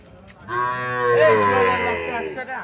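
A six-to-seven-month-old Sahiwal bull calf at a cattle market in Chandimura, Cumilla, gives one long, loud, close moo lasting about two seconds.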